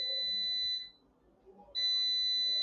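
A bleep tone censors a word: a steady high-pitched electronic beep sounds twice, each lasting just under a second with a short gap between, loud and clean over a quiet background.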